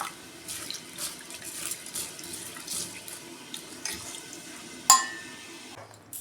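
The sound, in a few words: water added to soak mixed lentils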